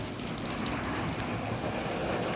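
Steady rain falls in the Andes, a dense, even hiss of drops on surfaces filling the whole moment at a moderate, close level with no talk and no break.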